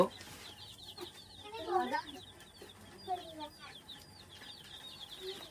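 Young chickens in a brooder cluck and peep in scattered short calls, fairly close and soft, with brief rustling between them.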